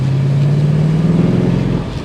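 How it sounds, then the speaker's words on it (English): A 2023 BMW M850i's engine revs up loud and close, a deep sustained drone with exhaust rumble running steadily for about two seconds before easing off slightly at the end. "You get a nice exhaust spit."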